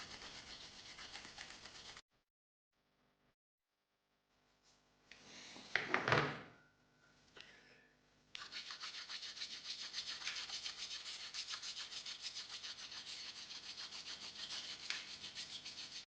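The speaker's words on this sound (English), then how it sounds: "I also sanded down the rough remnants of the support structures." Hand sanding of rough support remnants on a large 3D-printed figure statue, a steady close scraping rub running for long stretches, broken by a quiet pause and a brief knock.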